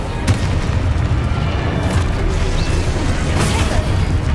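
A Confringo fire spell from the Hogwarts Legacy video game erupts in a loud, dense booming blast that rumbles continuously, with a few sharp pops riding on the roar.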